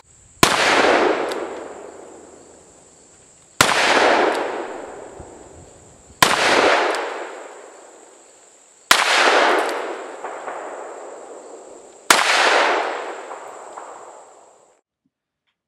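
Colt Python revolver firing .357 Magnum rounds outdoors: five loud, sharp gunshots spaced about three seconds apart, each trailing off in a long echoing decay, with a steady high tone underneath.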